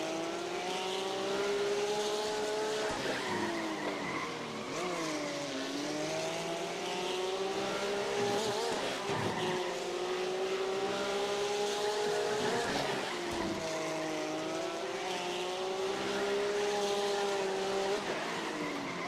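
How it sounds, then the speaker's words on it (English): Race cars in the iRacing sim racing game roar steadily and loudly, engine pitch rising and falling through gear changes and corners, with brief scrubbing squeals, and no talking. "These cars are definitely more squirrely and challenging than the touring cars and the Fiats."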